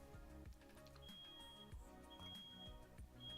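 A fire alarm shrills through a home where someone is smoking in the kitchen, sounding as repeated high steady beeps over music and background noise, fairly faint.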